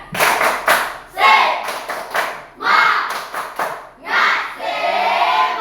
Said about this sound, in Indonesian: sekarang semuanya kita ulang tepuk semangat bersama-sama